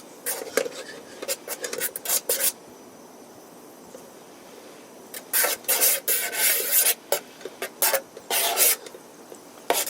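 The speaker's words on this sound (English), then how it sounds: "It might sound like I'm scratching the pan," A metal knife scrapes across a pan while grilling a cheese sandwich, in bursts of harsh rasping, irregular strokes with quiet pauses between, close up.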